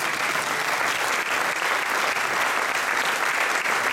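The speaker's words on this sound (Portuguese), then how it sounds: "Eu gostaria que vocês dessem uma salva de palmas muito forte." Loud, dense applause from a conference audience, a steady wash of clapping that holds at full strength without a break for about four seconds.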